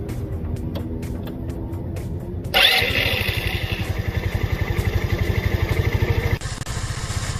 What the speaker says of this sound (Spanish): vamos a volver a encender la motocicleta